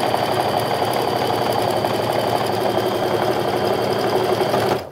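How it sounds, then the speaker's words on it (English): A sewing machine runs steadily, stitching an eighth-inch seam around the raw edges of a fabric frame wallet, a loud continuous whir with no talk before it stops abruptly near the end. "I'm also gonna stitch around all of these raw edges here with an 1/8-inch"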